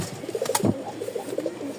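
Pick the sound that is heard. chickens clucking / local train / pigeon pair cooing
pigeon pair cooing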